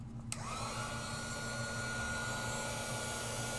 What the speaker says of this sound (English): So now we're going to emboss.